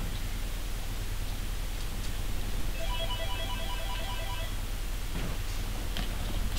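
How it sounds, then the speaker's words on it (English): A telephone rings in a room while a game plays, a single brief burst of faint, trilling rings half buried in a steady background hiss. "Sorry if you can hear the phone ringing"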